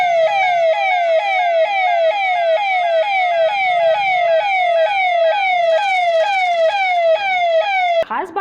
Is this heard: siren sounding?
yes